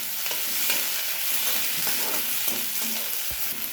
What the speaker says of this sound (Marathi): कांदा, लालसर कांदा होईपर्यंत त्याला चांगलं भाजून घ्यायचं मित्रांनो